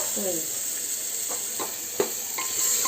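Mutton curry sizzles in a hot pan while a spoon stirs it, with a steady frying hiss and a few sharp scraping strokes, close and fairly quiet.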